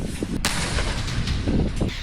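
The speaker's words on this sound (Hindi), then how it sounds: "तोप खाने और मिसाइल का इसमें जमकर इस्तेमाल हो रहा है।" Artillery fire in war footage from the Donbas, heard as a dense barrage of heavy booms in steady succession, loud and close with no talk over it.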